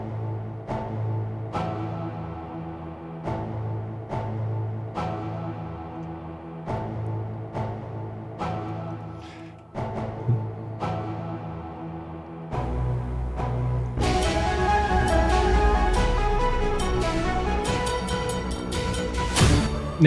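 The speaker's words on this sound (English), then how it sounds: "playing the same spiccato patches just gives that a bit more of a modern hybrid sound" Trailer-style orchestral music with short, repeated spiccato string notes over a root-fifth bass line, first sparse and pulsing, then swelling into a fuller, louder hybrid arrangement.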